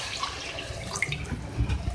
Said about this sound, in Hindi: मैं इसमें 2 गिलास पानी ऐड कर रही हूँ।